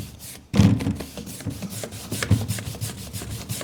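A pointed brush drags chalk paint across a wooden sideboard in a steady series of rhythmic, close, scratchy strokes.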